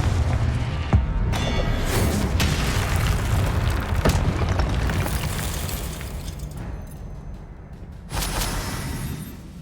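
Confringo blasting spells explode during Hogwarts Legacy combat, producing a run of booming blasts and sharp cracks, loud and close, with a dense rumbling tail and a fresh burst near the end.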